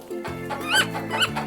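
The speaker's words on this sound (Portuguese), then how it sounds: "Como que a galinha faz?" A hen's clucking: a few short voiced clucks and squawks, close and fairly loud, over a steady background.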